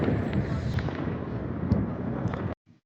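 New Year's Eve fireworks over the river in Szczecin, Poland, make a dense, continuous roar of crackling and booms that cuts off abruptly near the end.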